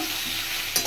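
Boiled green jackfruit seasoned with salt and turmeric sizzles steadily in a pan, a brief close frying hiss ending in a quick stirring scrape, with no voices.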